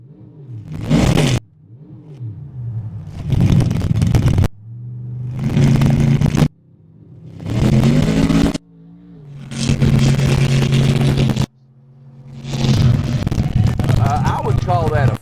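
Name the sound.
truck engine revving during a pull at 4-Wheel Jamboree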